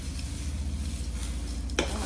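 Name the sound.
stirring and mixing chevda snack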